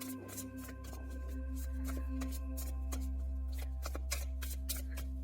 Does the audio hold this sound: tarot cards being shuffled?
yes